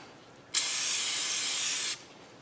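Aerosol spray bursts onto a brake rotor during a Hyundai Sonata front brake job: a single steady, loud hiss lasting about a second and a half, starting and stopping abruptly against a quiet background.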